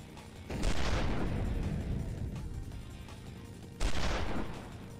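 Video game gunfire and explosions roar close and loud: a sustained rumbling barrage of shots and booms, with a second heavy blast near the end.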